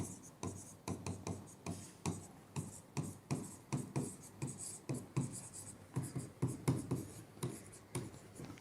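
Pen writing an address into the columns of a recruitment application form, a close, steady series of short scratchy strokes with brief pauses between words, no voices.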